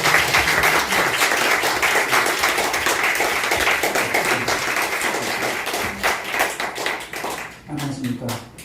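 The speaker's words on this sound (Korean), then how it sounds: "박수로 모시겠습니다" An audience at a church lecture hall claps steadily to welcome a lecturer to the stage, a dense sustained round of applause that thins into a few scattered claps at the end.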